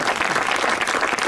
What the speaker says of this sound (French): je vous demande d'ailleurs d'applaudir le jury